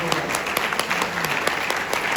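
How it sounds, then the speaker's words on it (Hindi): A brief burst of crowd applause at a network marketing talk, with many hands clapping densely and evenly throughout, a few sharper individual claps standing out. "महिलाओं के लिए तालियां बजाते हैं"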